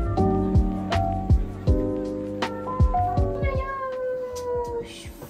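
A brushed cat gives several short meows spread through the clip, each fairly close and distinct, mixed with a woman's soft speech.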